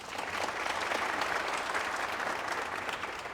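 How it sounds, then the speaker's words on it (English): Sustained applause from an audience at an anniversary celebration, dense and steady throughout with no break and no voices on top. "So perhaps another round of applause, please."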